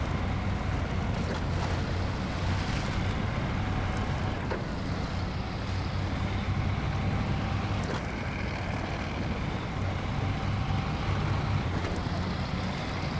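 A truck in the video game SnowRunner plows into water, giving a steady, dense wash of churning water and engine rumble that holds at an even level throughout.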